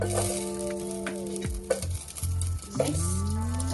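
Green chillies sizzle and crackle in hot oil with cumin and mustard seeds in a pan for egg Maggi noodles, with stirring scrapes and a steady frying hiss throughout, close and fairly loud.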